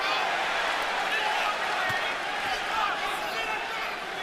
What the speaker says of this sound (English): And now the crowd is chanting, Daniel, Daniel.